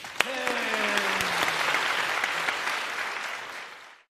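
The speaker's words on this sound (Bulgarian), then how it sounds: "Започваме аплодисменти!" An audience at a comedy show breaks into steady applause that starts with a sharp clap, holds as a full, even roar for about three seconds with a tonal sweep under it, then fades and cuts off.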